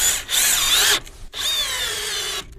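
A Metabo brushless 18-volt screwdriver on second speed drives a screw, giving two loud whirring bursts with a short gap between them, close up and without talk.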